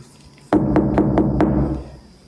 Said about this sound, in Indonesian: Coba bang, ketok kamar 307.